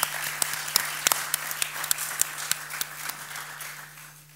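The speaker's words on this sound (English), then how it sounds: "Please give him a warm round of applause." Scattered, sparse hand claps from a small panel audience at a policy event on a bank to rebuild America, individual sharp claps standing out over a steady low hum and thinning as they fade away.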